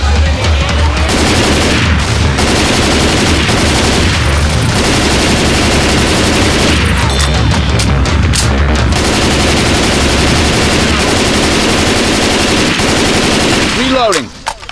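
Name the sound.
gunfire from guns in the video game Left 4 Dead 2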